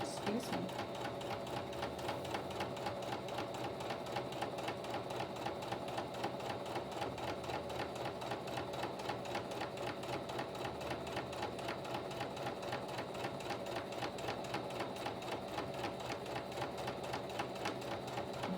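A sewing machine stitches a softcover for a journal, its needle running in a steady, fast mechanical rhythm that continues throughout at close range, with faint talk underneath.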